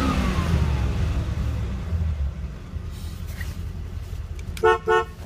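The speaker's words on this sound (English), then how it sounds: "Horn works nice." A 1991 Chevrolet Corvette sounds two short, loud honks of its horn near the end, after several seconds of steady low engine idle and rumble.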